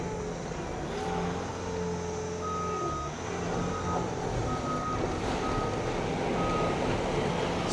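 A 2022 Bobcat T66 rubber-track skid steer loader reverses, its evenly spaced backup beeps repeating over a steady diesel engine drone, close and loud, with no voices.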